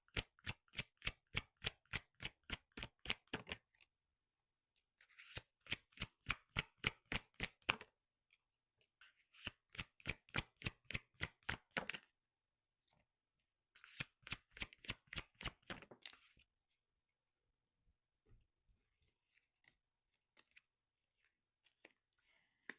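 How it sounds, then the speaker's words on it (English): Oracle cards being shuffled in four bursts of rapid, crisp riffling clicks, each lasting a few seconds with short pauses between, close and clear in a quiet room, followed by a few faint handling taps. "We'll go ahead and pull some oracle cards"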